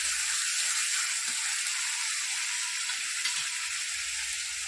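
Onion paste frying in a pan until it turns brown, a steady close sizzle and hiss running unbroken with only faint low clinks now and then.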